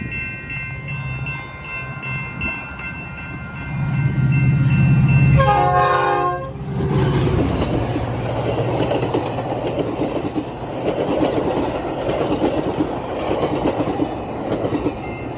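A locomotive roars past at speed, its horn blasting loudly, followed by the rapid clatter of rail cars rushing by up close.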